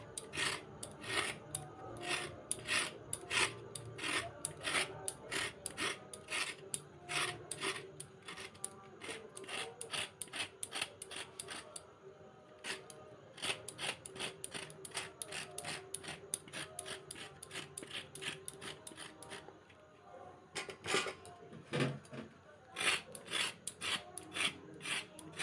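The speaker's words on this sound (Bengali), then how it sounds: "গাজরের গাগুলো হালকা করে এরকম করে এই যে শুধু একটু চেঁচে নেব।" Carrots being scraped with a blade to peel off the skin, a steady run of quick rasping strokes, close and fairly loud, with a brief pause partway through.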